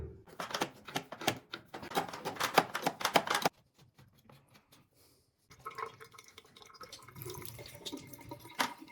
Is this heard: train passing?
no